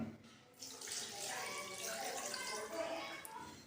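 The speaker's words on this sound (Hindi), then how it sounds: "हम इसके अंदर शामिल करेंगे 1 कप पानी" Water pours steadily into a cooking pot for a few seconds, a continuous splashing, gurgling stream heard close up.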